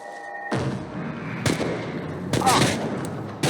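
Gunfire in the game Chernobylite, a few sharp loud bursts and booming shots over a rumbling battle backdrop, close and intense, with no speech.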